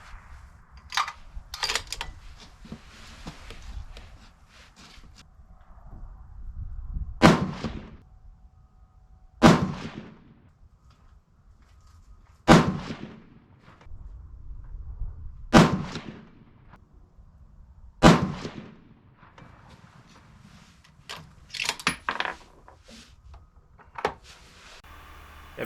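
A Seekins Precision Havak rifle chambered in 6.5 PRC fires a five-shot group: five sharp, loud reports spaced a few seconds apart, each with a short ringing tail. Quieter clicks and handling noises come before the first shot and after the last.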